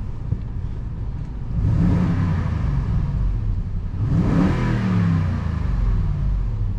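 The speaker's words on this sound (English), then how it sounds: "I'm gonna lower down the window here and we'll listen to a quick engine note." A 2008 Toyota Sequoia engine revs twice through an open window, each rise a muffled, smooth climb in pitch over a low steady idle rumble, moderately close and with no talk.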